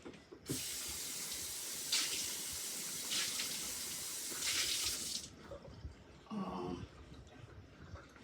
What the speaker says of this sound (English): I'll just rinse it out anyway